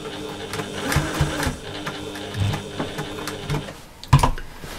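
A sewing machine stitches fabric for a slouchy bag in a steady, close whir with brief stops and starts, ending in a sharp clunk.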